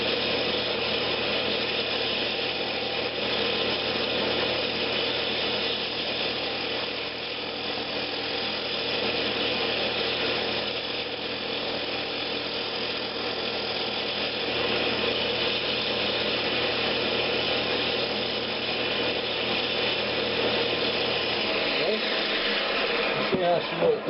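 Wood lathe turning a wooden box while a skew chisel cuts a small recess around the rim: a steady motor whir with faint scraping, continuous and even, with someone talking intermittently.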